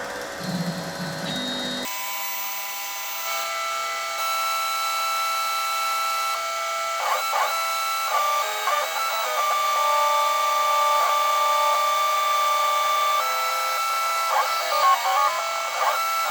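A Boxford lathe cutting metal with an opposite-handed tool, a steady tonal whine with shifting pitches and short scraping chatters as the cut changes, close and continuous.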